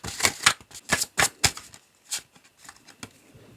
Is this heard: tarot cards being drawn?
yes